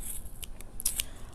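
Scissors trim a yarn pom-pom made with a Boye pom-pom maker, with a few quiet, crisp snips spaced close together over a soft background.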